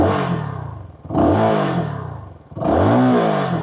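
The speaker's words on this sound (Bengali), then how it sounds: "অ্যান্ড এক্সস্টের সাউন্ডটা কিন্তু যথেষ্ট লাউড" Revving from a CFMOTO 300NK motorcycle's underbelly exhaust, three loud throttle blips rising and falling close by, each swelling to a roar before easing back toward idle.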